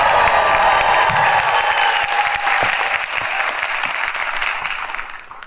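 A convention audience at the MomoCon animation creators panel bursts into loud clapping with some cheering, dense and close at first, then gradually thinning toward the end.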